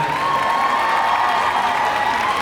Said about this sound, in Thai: ขอเสียงปรบมือนะครับให้กับโปรดิวเซอร์ ผู้กำกับและนักแสดงจากี่มาหนามด้วยนะครับ